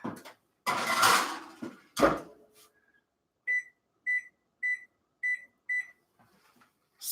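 Microwave oven baking an Oreo lava cake: handling clatter and door noises at first, then five evenly spaced clear beeps signalling the end of the cycle.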